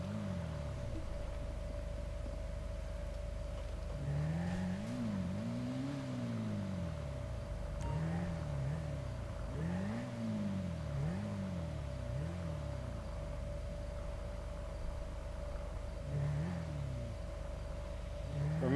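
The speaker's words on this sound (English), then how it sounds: "now comes a little motorcycle fun with some stairs" A motorcycle in GTA V Online is ridden around and jumped down stairs. Its engine revs rise and fall in repeated arcs over a steady synthetic hum, moderately close, with no voices.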